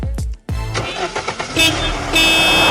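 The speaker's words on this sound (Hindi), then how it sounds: "इतना कहकर उसने अपनी गाड़ी का गेट बंद किया और होटल पार्किंग से निकल गया।" A car door thuds shut and a car starts up and pulls out of a hotel parking lot, sharp slams followed by a rising engine and a honk, loud and close.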